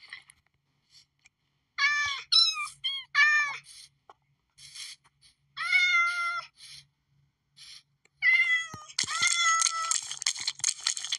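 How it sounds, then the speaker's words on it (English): A Minecraft cat meows in a series of short, clear mews separated by pauses, then a longer run of overlapping meows near the end, close and fairly loud with no talk. "we tamed this cat."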